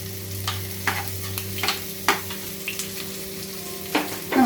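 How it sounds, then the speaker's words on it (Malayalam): Crushed garlic and ginger sauté in an oiled pan for a tiger prawn roast, giving a steady close sizzle broken by several sharp spoon scrapes and taps at irregular intervals, with no talk. "നമുക്കിത് നല്ലപോലെ വഴറ്റിയെടുക്കാം."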